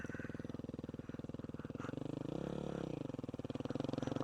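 A supermoto motorcycle engine revs hard for a wheelie, a steady pulsing drone that swells into a louder, rising roar midway before settling back to a throbbing idle, close by.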